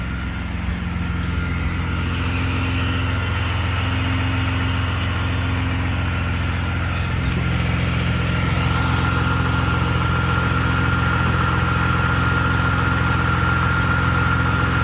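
A car engine idles steadily after a radiator replacement, a continuous close mid-pitched hum with a faint whine, running alone without voices.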